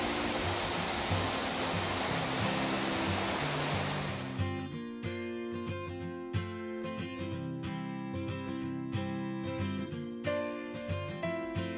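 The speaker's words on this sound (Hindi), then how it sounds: "अब देखो यहाँ तो वाटरफॉल भी रोड साइड मिल जाता है।" Steady roar of a roadside waterfall in Meghalaya, broad rushing water for about four seconds before music takes over.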